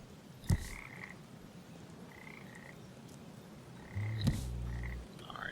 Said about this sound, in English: Oh, hey, frogs.